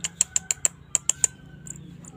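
A small Javan flowerpecker gives a quick series of sharp, high ticking chirps, about eight in a row, then falls quiet over faint background hiss.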